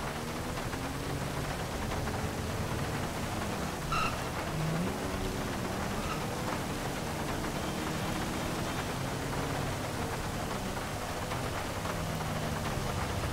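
Steady hiss of rain falling in the video game GTA 5, a constant dense wash of noise with faint engine-like rumble beneath and a brief chirp partway through.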